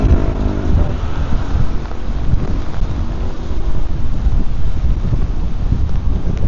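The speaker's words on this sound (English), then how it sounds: "Oh, good wind. I like the wind because it cools off the cameras." Steady wind gusts buffet the microphone on a rainy walk through a city park, a loud continuous low rumble with no speech.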